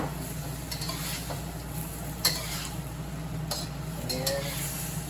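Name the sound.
tofu and fish added to the pan in ginger garlic sauce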